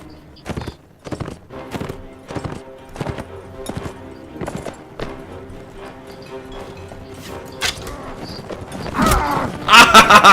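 Horses gallop in the video game Mount & Blade: Warband, with a rapid series of clopping hoofbeats that build in loudness toward the end, joined by clashing battle noise.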